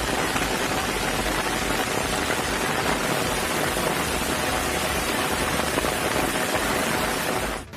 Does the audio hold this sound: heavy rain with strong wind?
yes